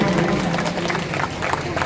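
An audience applauds to welcome a speaker at an Urdu student programme, with dense, steady clapping from many hands throughout.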